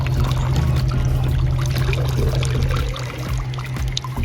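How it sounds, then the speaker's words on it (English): Wybot robotic pool cleaner pushing jets of water out through small flaps as it moves across a pool, a steady close rushing and splashing with a low motor hum throughout. "It's got these little flaps that open up and blows a little jet of water out that way."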